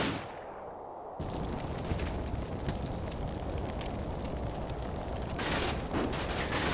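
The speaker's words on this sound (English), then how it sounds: "there's sporadic fire coming from other buildings" Sporadic gunfire crackles from surrounding buildings in a WWII battle in the game Combat Mission Final Blitzkrieg, with dense, continuous shots and rumbling over about seven seconds and a brief quieter lead-in.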